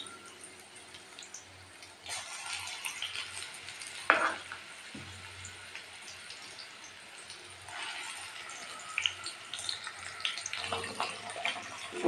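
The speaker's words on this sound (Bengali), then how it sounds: "এক এক করে মশলাগুলো মিলিয়ে দিচ্ছি" Spices stirred into frying potatoes in a pan, a low sizzle with scraping strokes of a spoon and occasional clinks, steady and close without any talk.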